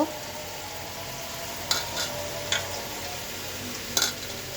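Onions and potatoes frying in a pan for an egg curry, giving a steady close sizzle with a few sharp utensil clinks and scrapes against the pan, no talking.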